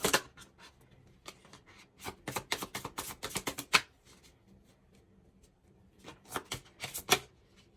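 Tarot cards being shuffled and drawn by hand, close and fairly quiet, in two bursts of rapid riffling clicks separated by a quieter pause with a few soft taps; no speech.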